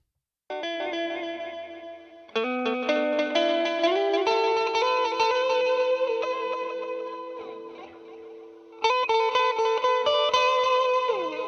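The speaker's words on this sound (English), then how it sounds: "So that's more the delay sound." Guitar-led music mix with a heavy delay effect, repeating echoes smearing sustained chords and notes into a dense, shimmering wash that plays loud and continuous with a brief dip before swelling again.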